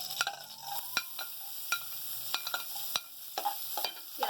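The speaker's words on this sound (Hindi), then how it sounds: "उसके बाद हम इसमें ऐड करेंगे हमारी प्याज" Onions frying in oil are stirred in a pan for a chicken tikka pizza, with a soft, steady sizzle broken by repeated sharp scrapes and clicks of the spoon against the pan, heard up close and without talk.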